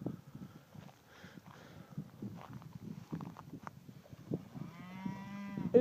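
Hereford and Red Angus cattle in a sunny field, heard through low repeated moos and lowing. Shuffling movement and a few brief knocks sit beneath, and a long, steady, near bellow builds toward the end.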